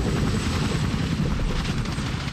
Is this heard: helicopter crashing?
yes